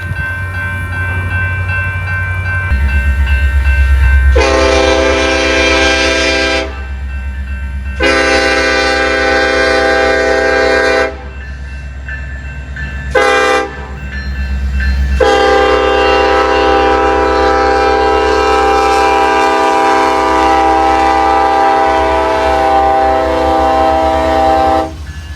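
A passing train rumbles loudly while its horn sounds in several long blasts separated by short gaps, the last blast held for many seconds.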